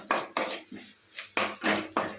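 Capsicum masala is stir-fried in a pan, heard as a series of sharp, close metal scrapes and clacks of a spatula against the pan in an uneven rhythm, with no voices.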